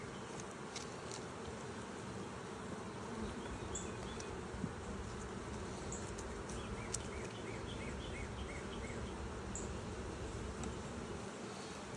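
Honeybees buzzing in dense numbers at a healthy hive with drones about, a continuous close, even hum that fills the whole stretch with no pauses, joined by faint chirps of birds in the background.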